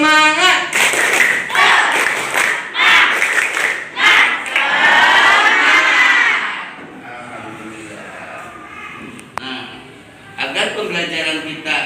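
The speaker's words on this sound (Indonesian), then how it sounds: "Tepuk semangat." A class of children performs a rhythmic spirit clap together, bursts of patterned claps and chanting voices filling the room, then a teacher speaks briefly and the group's voices return.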